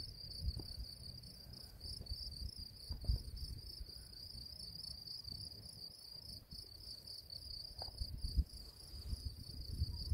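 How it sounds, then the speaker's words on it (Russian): Crickets chirp steadily in the Swiss Alps, a continuous high shimmering trill held through the whole stretch, with soft low rumbling background beneath and no voices. "Слышите, как сверчки сверчат?"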